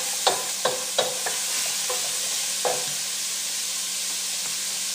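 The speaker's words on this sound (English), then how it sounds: "So I'm going to put my onions and celery into the pan and start that cooking process." Chopped onions and celery sizzle in a pan with a constant frying hiss, punctuated by a few sharp utensil clinks and stirring scrapes near the start, close and without speech.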